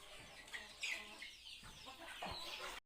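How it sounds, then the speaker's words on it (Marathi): Soft, scattered clucking from a few chickens nearby at a poultry farm, with faint chirps and rustling in the background; no talking. "इकडे पण कोंबड्या आहेत"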